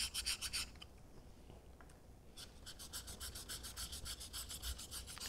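A vintage straight razor is drawn across a Shapton 1000 sharpening stone in rapid, rhythmic rasping strokes, close and fairly quiet, with a brief pause partway through and no talking.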